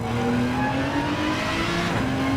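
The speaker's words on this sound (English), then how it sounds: "we listen to the beautiful noise from the Aston Martin engine" Aston Martin race car engine roaring in a racing video game at Interlagos, a loud steady drone with sustained revving tones and no pauses, alone without talk.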